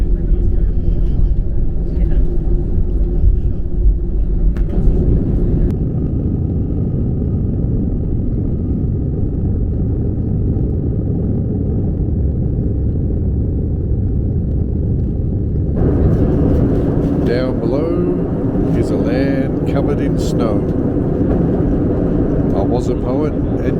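A constant deep engine rumble of an airplane rolling along the ground drones throughout, with voices talking over it and a brighter roar joining later.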